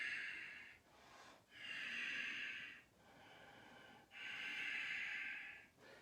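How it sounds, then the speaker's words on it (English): Heavy breathing during yoga practice: slow, rhythmic, audible breaths, each long airy inhale and exhale separated by brief pauses, about four cycles, close and quiet, with no speech. "I don't know if you can hear that breathing"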